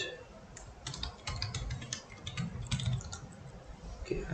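Quick bursts of keystrokes on a computer keyboard as a Linux terminal update command is typed, close and clear, with irregular clicking clusters and brief pauses between.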